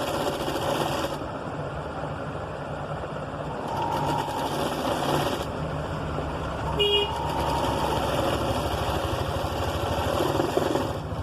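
A sewing machine stitches sleeves onto a six-year-old child's blouse with a continuous close whirring drone. A faint horn-like toot sounds briefly in the background partway through.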